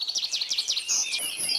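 Small cartoon birds chirp in quick, bright, rapid tweets that run together in a steady stream, moderately close and with no talking over them.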